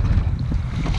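Wind gusting over open water during a kayak outing, a steady low rushing roar with buffeting microphone noise, loud and continuous with no voices.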